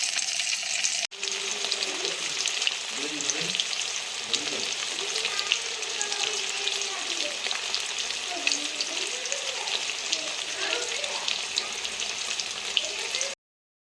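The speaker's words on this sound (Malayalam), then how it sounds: "നമ്മളുടെ ചട്ടിയിൽ ഒഴിച്ച എണ്ണ ഇപ്പൊ ചൂടായിട്ടുണ്ട്. നമുക്കത് ഇട്ടേക്കാം." Sausages sizzle steadily in hot oil in a pan, a dense continuous frying hiss with occasional crackles, close and fairly loud, after a brief drop near the start.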